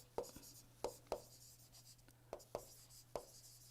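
Pen scratches on paper during a lecture about boilers, heard as short, distinct strokes in small irregular clusters, close and quiet, over a steady low hum.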